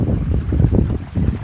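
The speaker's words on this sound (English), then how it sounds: "So both of our gray tanks are open, and it is completely cleaning out pretty much the sewer hose itself." Gray tank water rushing through an RV sewer hose during a rinse-out, a steady low turbulent gush that fills the short stretch without pause.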